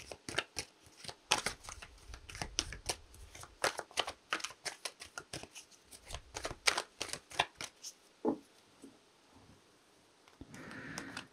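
Tarot cards are handled and shuffled up close, a run of crisp riffling flicks and slaps in quick irregular rhythm, thinning out into a few scattered card sounds near the end.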